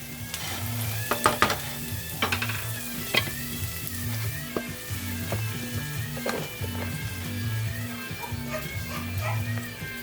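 Vegetables sizzle and crackle in a frying pan for fried rice, a steady close hiss broken by scattered pops and scraping clinks, with a dog's yips sounding faintly in the background.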